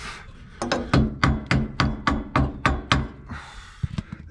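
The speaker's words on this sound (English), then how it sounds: "Give a little tappy tap" A hammer raps about ten times in a steady rhythm on a stuck fitting on a Toronado, bright close knocks, followed by a brief scraping rub.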